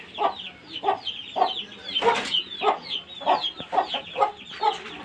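Hens at a village farm mini zoo cluck in a steady, repeated rhythm, close and clear, with a louder burst of squawking in the middle.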